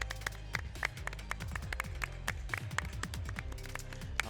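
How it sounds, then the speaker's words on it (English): An audience applauds a 2XKO tournament player at the TGU 2025 fighting game event, with steady dense clapping throughout and a few sharper individual claps on top. "deserve a round of applause. Please give it up for Suboy!"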